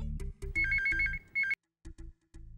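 A phone ringtone plays a repeating electronic melody in several bursts, then pauses briefly before the ringing resumes in a drama scene. No voices are heard.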